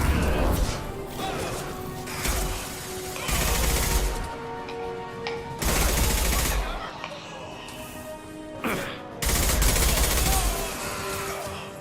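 Gunfire erupts in a Mass Effect 2 firefight, loud bursts of shots and crashing impacts coming in several heavy clusters with brief gaps between them.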